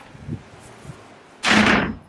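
A hotel room front door in Akumal, Mexico, slams shut when pulled by a draft from an open balcony door: one loud, sharp bang after a quiet moment with faint shuffling.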